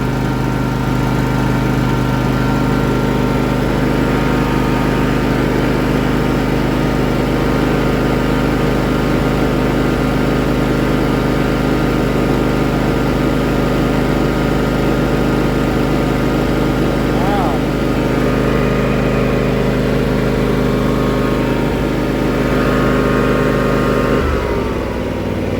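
A John Deere riding mower that sat unused for two years runs steadily on old gasoline, a loud continuous engine drone with a brief dip near the end, close up, with occasional talk underneath.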